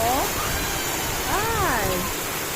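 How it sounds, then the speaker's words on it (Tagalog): Afternoon rain falls in a continuous, even hiss throughout, with a voice speaking briefly over it. "Umuulan na naman ngayong hapon"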